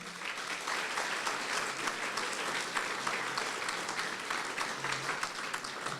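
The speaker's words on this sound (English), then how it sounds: "Please give him a round of applause, ladies and gentlemen." Sustained applause from a gala dinner audience welcoming a shadow minister for education to the stage, a continuous, even wash of many hands clapping in a large room, somewhat distant.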